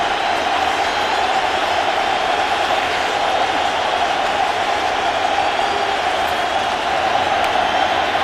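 A football stadium crowd at a third-and-goal play gives off a steady, loud, continuous roar that holds level the whole time with no breaks.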